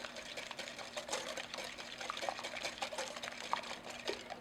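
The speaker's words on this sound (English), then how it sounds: "I'm just going to kind of whisk that in here." Whisk beating room-temperature heavy cream into pumpkin pie filling in a bowl, making a steady, quiet, rapid rhythmic clatter and swish for several seconds with no talking.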